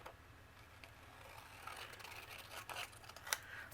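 Scissors snip vellum trimmed around a paper frame for a stenciled card, a faint, quiet cutting sound with a few brief sharper clicks near the end and no talking.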